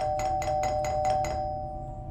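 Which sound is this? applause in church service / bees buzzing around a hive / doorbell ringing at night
doorbell ringing at night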